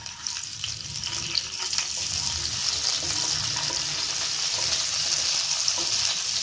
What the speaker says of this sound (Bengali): তেলের মধ্যে আমি প্রথমে রসুনটা দেব, দিয়ে রসুনটা একটু নাড়বো ভালো করে।